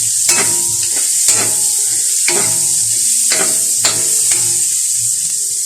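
Onion frying in a pan hisses with a constant bright sizzle while a utensil scrapes and stirs through it in roughly regular strokes about once per second, close up.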